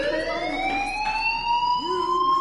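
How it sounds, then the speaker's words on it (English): In the video game Life is Strange Remastered, a fire alarm wails with a rising, siren-like tone. It sounds steadily and moderately loud across the whole span, with no voices over it. "do you hear that fire alarm? That means you should be outside."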